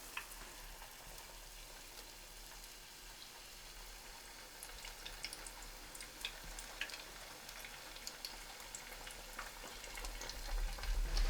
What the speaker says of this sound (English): Slide that into our hot oil.